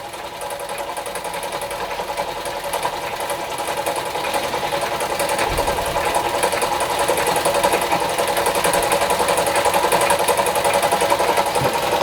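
A Doll & Co No. 56 1/2 model steam engine running on low gas pressure, a quick, steady mechanical ticking and chuffing with a light metallic rattle, close and continuous.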